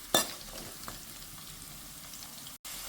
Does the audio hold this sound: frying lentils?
yes